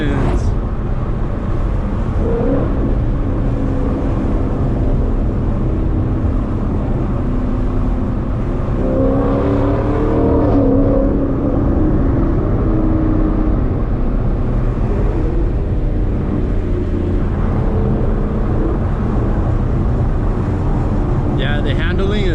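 A 2018 Ford Mustang GT with the performance package accelerates hard with its tires spinning, a loud continuous engine roar and road noise filling the cabin while people talk over it throughout.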